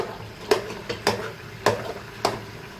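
A spoon stirs and roasts makhandi halwa in a pan, with four or five distinct scraping strokes at a slow, even rhythm over a soft background sizzle, close by and without talk.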